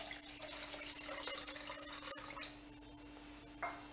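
Water poured into tamarind rasam for a Mysore-style South Indian rasam, a quiet trickling and dripping pour heard up close in a kitchen, fading toward the end.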